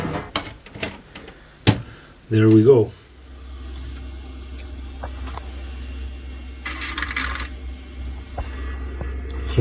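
A noisy floppy disk drive in a retro PC gives a short grinding, buzzing burst with clicks, then a steady low hum continues while a person speaks briefly.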